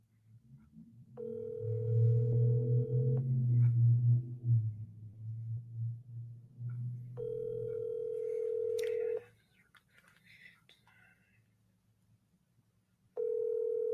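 A landline telephone dial tone sounds in steady sustained bursts, three separate stretches of unbroken tone with a low rumbling background noise between them.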